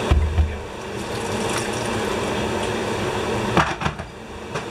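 Water pours into a cooking pot of beef hash on the stove, a steady rushing splash with low rumble at the start, followed by a few clunks and knocks of the pot.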